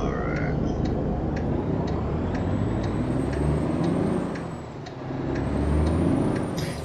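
A Mack-R truck in a driving video game rumbles under an engine brake, a steady loud low growl that dips briefly near the end before swelling again.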